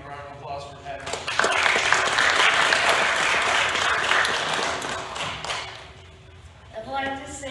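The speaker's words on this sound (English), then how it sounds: "give a round of applause for Pat." A crowd applauds loudly and steadily for several seconds, fading out as a voice begins speaking.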